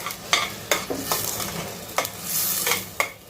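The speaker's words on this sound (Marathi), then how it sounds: "ते आपल्याला छान परतवून घ्यायचं आहे मस्त टोमॅटोचा असा रंग आलेला आहे ग्रेव्हीला" Tomato gravy with ground cumin paste sizzles in a pan while a spoon scrapes and stirs it, giving about six sharp scraping strokes over a constant frying hiss, close and alone.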